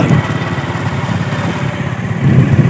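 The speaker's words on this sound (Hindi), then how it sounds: "तो मैं अब मोटरसाइकिल बैठ के मैं ये चला" A motorcycle engine runs steadily while being ridden on a road, a close, continuous mid-pitched drone that rises in loudness near the start and again toward the end.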